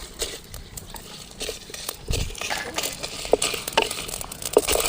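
Cumin and poppy seeds dry-roasting in a pan in a village kitchen: a soft, continuous crackle and patter with faint stirring scrapes and occasional sharper pops, fairly quiet throughout.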